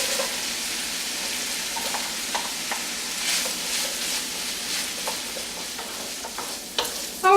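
Precooked sausage and hard salami frying in a pan for a rustic pizza pie, giving a steady close sizzle with soft stirring scrapes and a few brighter clinks near the end, and no voices.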